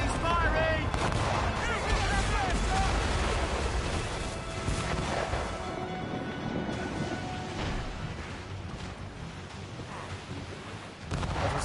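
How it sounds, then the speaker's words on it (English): Enemy ships fire their cannons during a naval battle in Assassin's Creed Rogue: dense, rumbling booms roll continuously at steady loudness, layered with battle noise and a faint voice-like wash, then cut off near the end. "Enemies firing!"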